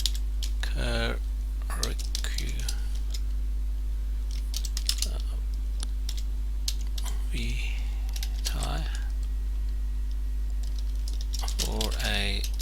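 Keys clatter on a computer keyboard in quick, irregular bursts of clicks with short pauses between them. A voice speaks intermittently over the typing.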